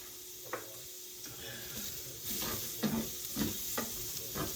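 Leftover onions sizzle in a pan for a Tuscan sausage pasta, a steady frying hiss broken by several scraping stirs near the mic, with no talking.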